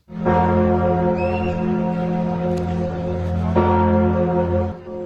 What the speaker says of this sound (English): The bells of the famed Notre Dame Cathedral rang out tonight